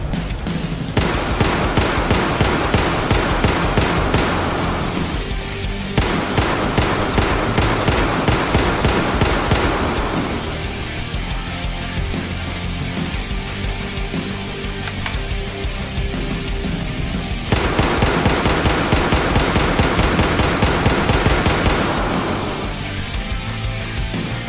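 Simonov SKS rifle with a LEGO skin firing in Battlefield 4, loud rapid semi-automatic shots in long bursts separated by short pauses, with metallic handling and reload noises between volleys.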